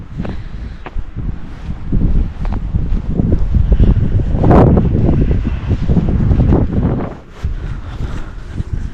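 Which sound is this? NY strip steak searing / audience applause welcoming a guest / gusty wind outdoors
gusty wind outdoors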